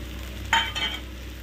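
Sesame powder goes into flat beans frying in a pan for a Rajasthani vegetable dish, bringing a brief burst of scraping and stirring over a soft, steady background sizzle.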